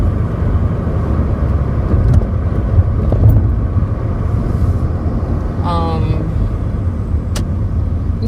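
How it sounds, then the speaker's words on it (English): Idling car engine left running, a steady low rumble held throughout at close range, with brief faint higher tones near the middle. "I'm leaving my car running because I don't want to shut it back off"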